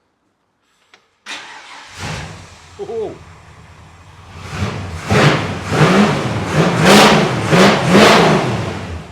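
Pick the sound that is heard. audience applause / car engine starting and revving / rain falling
car engine starting and revving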